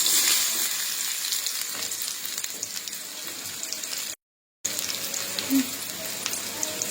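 Chopped onions go into hot oil for Gobi Manchurian, giving a steady, close hiss and crackle that runs throughout, with a brief dropout near the middle and no speech.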